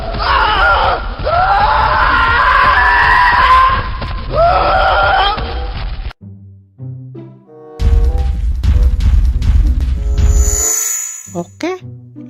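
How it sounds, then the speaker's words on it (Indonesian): A cartoon ondel-ondel character lets out a loud, drawn-out scream with wavering pitch, followed by shorter cries and groans amid cartoon sound effects. "sekarang kita coba dengarkan suara teriakannya"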